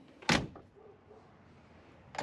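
Door of a 1959 Ford Galaxie Fairlane 500 car shutting with one loud solid thunk, followed by a quieter latch click near the end, close by with little else around.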